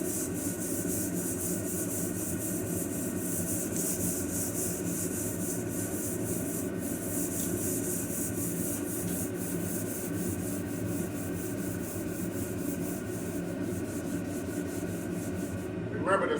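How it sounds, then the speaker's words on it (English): Steady, continuous rubbing and scraping of a sanding block on primer over a car body, close and even throughout with no pauses. "Put the block up against the body and use minimal pressure when you're doing the sanding."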